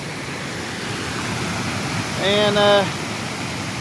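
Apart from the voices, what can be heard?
creek water flowing after a flood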